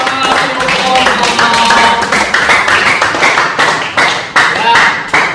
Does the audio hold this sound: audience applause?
yes